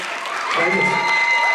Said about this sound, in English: I need y'all to start clapping though. Make some noise